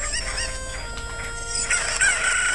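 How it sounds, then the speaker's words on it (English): Cuckoo chickens from the video game Zelda: Ocarina of Time cluck and squawk in a continuous chatter of game sound effects, with overlapping bird calls over a steady digital background and no talking. "They're called cuckoos, not chickens."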